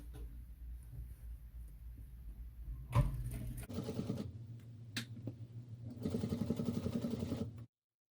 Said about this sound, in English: I'm doing a few stitches